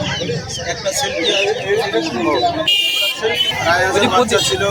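Chickens, Australorp and silkie hens, clucking at a busy poultry market, irregular clucks and squawks mixed with crowd babble and close conversation throughout.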